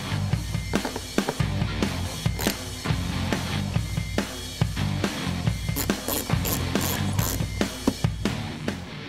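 A ratchet wrench steadily clicks as it backs out 8mm bolts from the lower air deflector of a 2013-2014 Ford Mustang, with rapid close-up pawl ticks in continuous bursts and occasional sharper metallic snaps.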